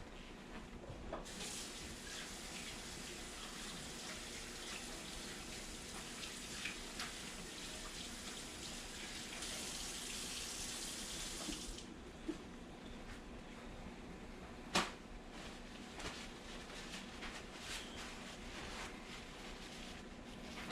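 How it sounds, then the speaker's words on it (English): Hands being washed under a running tap in a home kitchen while making chicken and dumplings, a steady broadband water hiss lasting throughout at moderate level, with a sharp clack partway through and no talking. "let me wash my hands and I'll be right back"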